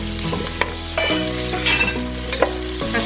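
Tomatoes and onions fry in a pan for a coconut milk chicken curry, stirred with sharp scraping clacks against a steady close sizzle.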